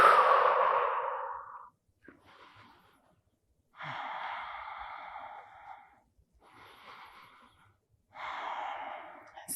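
Three long, slow breaths in a yoga session held in a high lunge, each one an audible airy exhale with quiet inhales in between, close and clear, with no talking.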